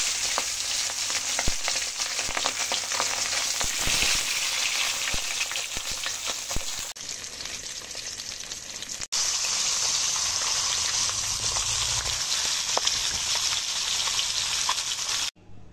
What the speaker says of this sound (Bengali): মাছের মাথাগুলো এক এক করে ভেজে নেব।